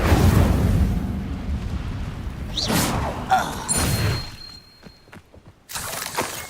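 An Incendio fire spell is cast in Hogwarts Legacy, giving a whooshing burst followed by shattering, crashing impacts and scattered thuds, with quieter game sounds fading out afterward.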